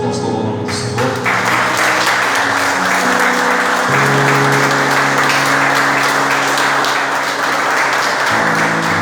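A congregation claps together during a church worship service, steady dense applause filling the room throughout, with some voices and tonal sound underneath.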